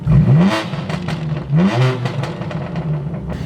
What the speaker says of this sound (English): Going to higher revs.